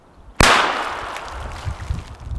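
A Dynamite D Böller firecracker blows up in water with one sudden loud bang, followed by a long hissing, splashing wash that slowly fades over the next two seconds.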